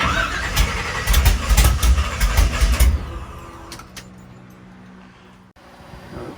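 A Chevy 496 big-block V8 catches after cranking, loud rough pulsing firing bursts for about three seconds that then fade into a quieter idle-like rumble.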